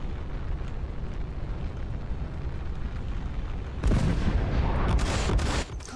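Gunfire and heavy blasts in the space combat game Star Citizen, a dense sustained burst of explosive shots erupting after a rumbling lull, loud and close.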